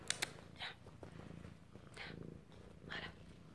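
A house cat purrs softly and steadily up close, a low rumbling drone with faint breathy pulses and a few small clicks at the start.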